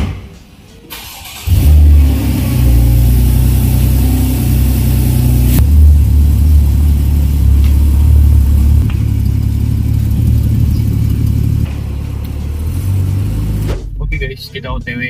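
A Porsche Boxster's engine starts with a loud burst and then drones and revs steadily as the car pulls away. Its low, continuous rumble stays up close throughout, and a person talks over it.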